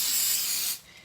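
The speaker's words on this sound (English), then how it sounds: "I just sprayed mine with a little bit of cooking spray" A single short blast of cooking spray hisses onto a cookie sheet, close and loud, cutting off sharply after under a second.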